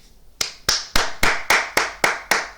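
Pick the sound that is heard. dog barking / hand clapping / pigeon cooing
hand clapping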